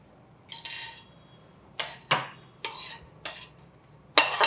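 Handful of cashews tipped into a small steel pressure cooker: a few sharp, bright clinks and rattles against the metal, spaced irregularly over several seconds, close and fairly crisp with no talking.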